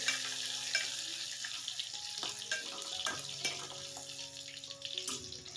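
Crushed garlic cloves sautéing in a pan, a soft sizzle under clinks and scrapes of a spoon mixing the contents, fairly quiet and close.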